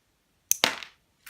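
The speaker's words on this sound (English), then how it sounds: "A terrible stud shot." A LEGO stud shooter on the Batman Gotham City Cycle Chase 76053 set snapping off a stud, two sharp close clicks in quick succession with a brief rattle after, then another click.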